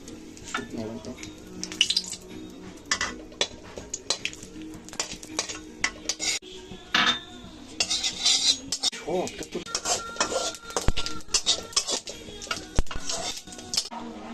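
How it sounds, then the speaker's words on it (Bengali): Whole dry chillies, cumin and bay leaves crackle in hot mustard oil, with sharp spitting pops and metal utensil clinks scattered through it, close by, while a person talks. "তেল গরম হয়ে এসেছে এখন আমি দিয়ে দেবো তেজপাতা"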